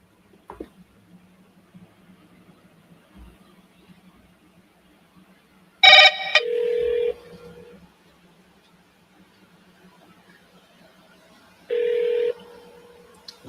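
Telephone dialing a call: a quick burst of keypad tones, followed by two long, steady ringing tones several seconds apart, all over a faint, quiet background hum.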